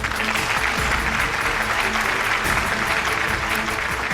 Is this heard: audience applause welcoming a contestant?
yes